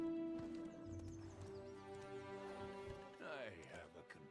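Horse hooves clip-clopping in the online game Black Desert, a steady clopping gait under game music and ambient sound, with a short whinny-like burst near the end.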